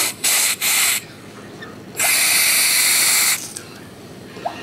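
Butane sprayed in two short bursts and then one long hiss as it is shot down into a dab rig to clean it, loud and close with quiet gaps between the blasts.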